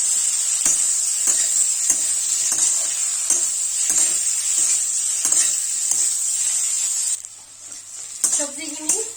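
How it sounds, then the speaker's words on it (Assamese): Ginger paste and spices fry for a rohu fish curry with ridge gourd and potato, a bright steady sizzle broken by regular scraping strokes of a spatula against the pan, with the hiss easing near the end. "আদা বটা অকণমান দিছোঁ, দি ধুনীয়াকৈ ভাজি কৰি ল'ম।"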